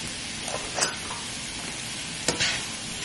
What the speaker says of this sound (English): I'm also going to add a little bit of garlic.